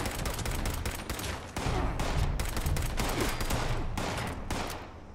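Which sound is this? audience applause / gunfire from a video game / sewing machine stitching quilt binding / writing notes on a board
gunfire from a video game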